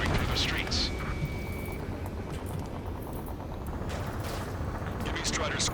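Gunfire and rumbling combat noise fill a city under martial law in the video game Ace Combat 7, a dense, continuous roar with a thin whistling tone early on and no clear separate shots.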